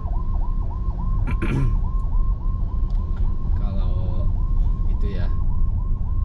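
A wailing ambulance siren cycles steadily up and down throughout, loud and continuous over traffic rumble heard from inside a BYD M6, with a brief change in its pattern midway.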